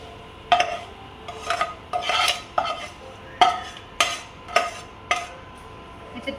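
A spoon scrapes and stirs crunchy poha chivda in a metal pot, about a dozen distinct rasping strokes in an uneven rhythm, close and clear with no talking.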